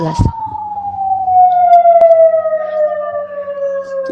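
A police car siren wails outside as the vehicle passes, a loud steady tone gliding slowly downward in pitch, with a brief knock near the start.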